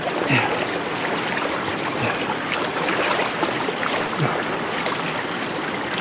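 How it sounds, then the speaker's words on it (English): Flowing water rinses a mossy jasper and petrified wood rock outdoors while rockhounding in Washington State, a continuous close trickle and splash with no pauses or speech. "it's looking like kind of quartz and petrified wood both at the same time, so I'll wash it off."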